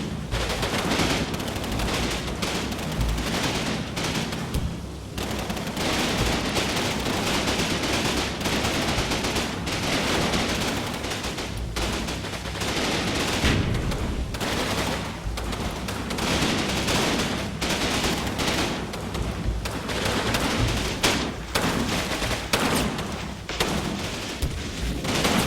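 Sustained gunfire across Normandy hedgerows in Combat Mission Battle for Normandy, dense overlapping rifle and machine-gun bursts with occasional heavier booms, loud and continuous throughout with no talk.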